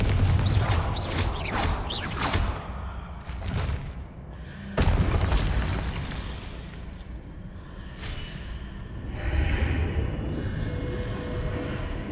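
Confringo fire spells explode in the Hogwarts Legacy video game, a rapid string of sharp booms and whooshing blasts, then scattered louder bursts over a busy rumble of combat effects.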